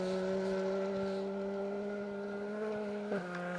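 A Ford Fiesta R2 rally car on a forest rally stage, driven sideways, gives a steady, smooth engine drone at fairly constant revs with a brief pitch dip near the end, heard alone at moderate distance.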